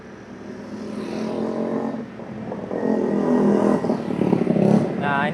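A loud motorcycle exhaust roars close by during a motovlog ride on a road, its engine note rising and holding strong through a few seconds as other traffic passes.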